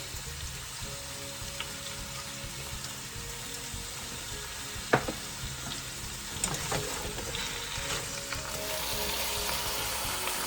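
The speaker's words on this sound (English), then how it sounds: "Let's saute this to saute them up a little bit." Peppers and carrots sauté in a pan, a steady close hiss and crackle running the whole time, with a couple of brief clinks of a utensil stirring partway through and no talking.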